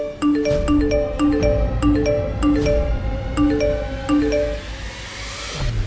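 A bright electronic chime melody rings out at home, repeating its short ding-dong pattern several times at a steady pace before fading at the end.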